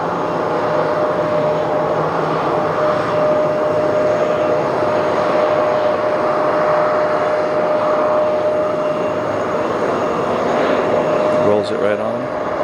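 A JetBlue jet approaches JFK's runway 4 right on its landing, arriving from Boston, its steady, loud engine roar filling the scene throughout; a tonal whine holds constant, with no pauses or breaks, from a spotting position near the runway.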